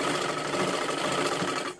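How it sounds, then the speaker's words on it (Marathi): A sewing machine runs steadily while stitching a blouse with tucks and piping, a continuous whirring hum that holds for nearly two seconds before cutting off at the end. "मग तिथून शिलाई द्यायला सुरुवात करायची"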